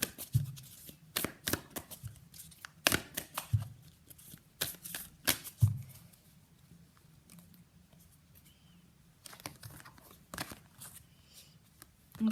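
An oracle card deck shuffled by hand: rapid riffling bursts and soft flicks of cards in irregular clusters, close and fairly quiet, with pauses between.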